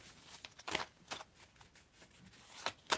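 A Crosswords Oracle card deck is shuffled by hand at close range, giving a few quiet, separate papery snaps and slides spaced through a short, otherwise hushed moment.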